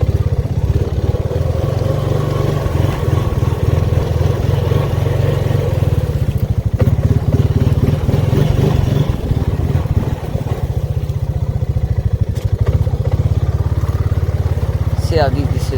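A Honda motorcycle running low on gas, engine droning steadily and loudly throughout while being ridden, with revs rising and falling, voices talking over it.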